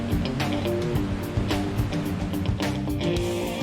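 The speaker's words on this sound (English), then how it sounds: "The river pounds its way through 300-meter volcanic rock walls." Stikine River rapids crash loudly through a narrow volcanic rock canyon with 300-meter walls, a dense, continuous roar of turbulent whitewater with surging bursts throughout.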